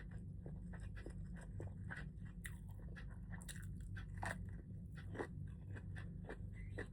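Crunchy chewing of lightly boiled, still firm okra with bagoong, close and steady, with repeated bites over a constant low background hum and no talking.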